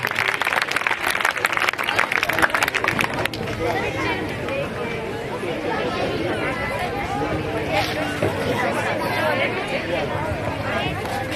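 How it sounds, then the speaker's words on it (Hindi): Audience applause for children performing at a school program, dense clapping from a crowd with chatter and voices mixed in, loudest in the first few seconds then settling into steady crowd hubbub. "जोरदार तालियां इन बच्चों के लिए"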